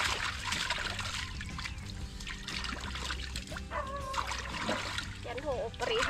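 Freshly dug cassava roots are washed in water outdoors on a farm, giving repeated splashing and trickling, while a dog barks at times and someone speaks throughout.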